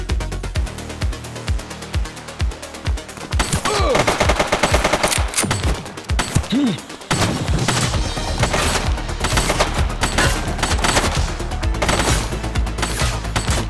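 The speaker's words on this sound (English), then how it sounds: "He's shooting!" A suspect fires at close range in the video game The Precinct, with dense bursts of rapid automatic gunfire rattling loudly and nearly continuously, broken by brief pauses.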